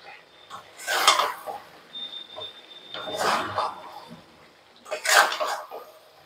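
Chicken coated in a packet of Everest chicken masala is stirred in a pan for a dry chicken dish, giving three separate bursts of scraping and wet shuffling with quiet gaps between them.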